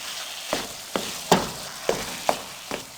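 A spoon stirs sabooni in a sizzling pan, scraping in about six distinct, evenly spaced strokes over a soft, steady frying hiss.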